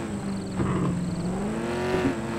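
A car engine in the video game American Fugitive drones and revs steadily, with a smooth pitch rise and fall, loud and continuous throughout.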